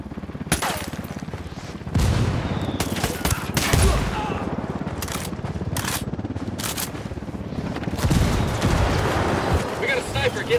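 Heavy gunfire and booming impacts crack through a combat scene in the video game Ghost Recon Wildlands, with mortar fire incoming. Loud bursts come in clusters over constant rumble, and voices are heard between them.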